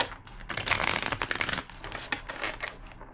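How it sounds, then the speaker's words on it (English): A deck of cards is riffled and shuffled in quick papery bursts, close and fairly soft, with no talking. "2 more shuffles"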